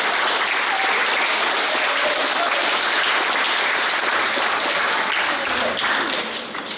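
Crowd applauding honourably mentioned students and teachers at a primary school graduation ceremony, a full, sustained round of clapping that stays loud throughout and fades slightly at the end.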